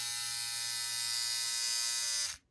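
A cheap imported electric body shaver trimmer runs with a steady, strong high-pitched buzz close by, then switches off and cuts out near the end.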